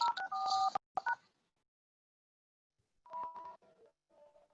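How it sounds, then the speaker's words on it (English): Telephone keypad tones entering a meeting ID, a quick burst of close DTMF beeps, a pause of silence, then a few more tones and short bleeps. "Enter your meeting ID followed by pound."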